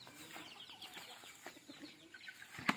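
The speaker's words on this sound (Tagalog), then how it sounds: "tara magpapakain muna tayo ng ating mga alagang manok" Scattered soft clucks from backyard chickens at feeding time against a busy outdoor background, with one sharper, louder cluck near the end.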